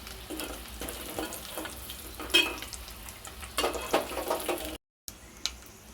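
Eggs frying in a pan with turmeric: a steady close sizzle runs throughout, broken by occasional stirring scrapes and clinks, with no voices and a brief cut near the end.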